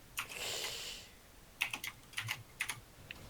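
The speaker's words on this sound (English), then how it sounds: "mechanical keyboard sounds like he's fucking writing on a typewriter next to his mic." Rapid clatter of a mechanical keyboard typed right beside a microphone, one sustained burst of keystrokes followed by several short, loud, separate clusters of clicks.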